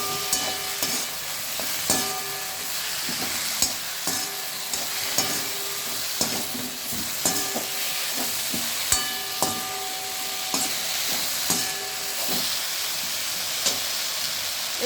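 Vegetables fry with ginger paste in a pan, giving a constant sizzle broken by regular scraping stirs about every second or two. No one speaks.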